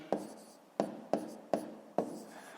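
Numbers being written by hand during a fifth-grade math exercise: five distinct, fairly close scratchy pen strokes at an uneven pace with quiet pauses between them and no talking.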